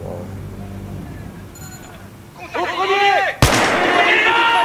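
A sniper rifle fires in the Battlefield 3 video game, a single sharp, loud crack with a ringing tail, preceded by rising engine and battlefield noise, with a voice speaking under the game sounds.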